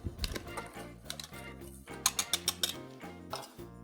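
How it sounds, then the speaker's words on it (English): A whisk ticks and clinks rhythmically against a bowl while mixing flour, cinnamon and salt for banana bread, with quiet tonal background music underneath. "I'm going to whisk this together, and that's going to break up any lumps so I don't have to sift the flour."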